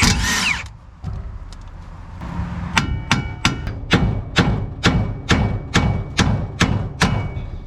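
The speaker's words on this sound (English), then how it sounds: "for starters, I'm going to get this tie rod off." Front suspension tie rod being knocked loose on a Toyota Cressida MX73, a brief tool whir followed by a steady series of loud, evenly spaced hammer blows ringing on metal, close up with no talk.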